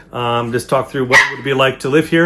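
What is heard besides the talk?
dog barking in the background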